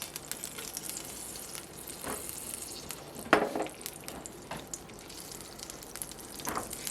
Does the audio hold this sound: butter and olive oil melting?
yes